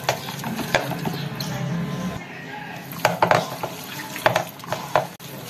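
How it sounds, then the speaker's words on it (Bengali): Pabda fish is worked together with spices by hand, giving soft wet squelches and slaps in uneven bursts, close and fairly loud, with a few louder smacks toward the end. "এই যে ভালো করে মাখিয়ে নিয়েছি"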